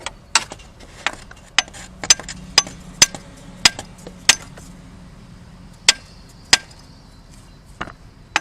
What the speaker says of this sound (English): If starter refusing to come out, you might have to use hammer.